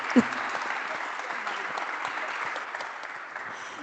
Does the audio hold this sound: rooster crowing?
no